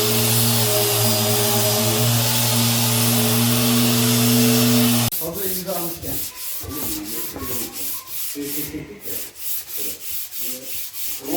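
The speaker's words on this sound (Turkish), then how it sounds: "Buna da elle zımpara yapıyoruz." Steady rhythmic scraping of hand sanding on varnished wood between varnish coats, repeated back-and-forth strokes close up, following a stretch of constant humming noise.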